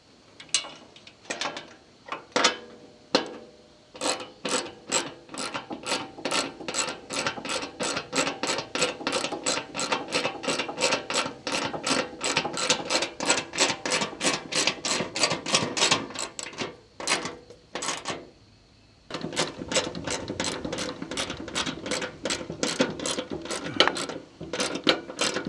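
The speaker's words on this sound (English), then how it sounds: "all I should have to do is just tighten the nuts down" A ratchet wrench tightens nuts onto welded bolts while a tiller is assembled, making long runs of rapid, evenly spaced clicks up close, broken by a short pause before the clicking resumes.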